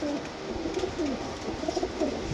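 Pigeons at a market coo nearby in repeated low, rolling calls, several overlapping throughout over a soft background hum.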